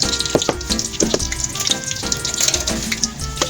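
Sliced sweet potato (kamote) frying in hot cooking oil, a steady dense sizzle and bubbling hiss with scattered pops and spatters throughout, close and fairly loud, with no talk.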